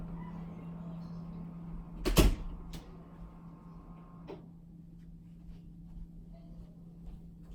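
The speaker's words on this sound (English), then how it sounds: "Can you shut the door, please, sir?" An indoor door is shut with one sharp, loud thud, followed by a couple of fainter knocks against a low steady hum.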